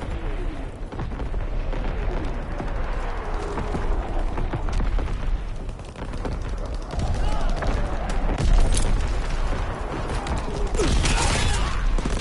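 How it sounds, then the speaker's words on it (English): Artillery fire in the World War II shooter Call of Duty WW2, a dense, continuous barrage of booms and gunfire rumbling for the whole stretch, loud and layered, with a few sharper blasts standing out near the end. "Coordinates confirmed. Firing on target."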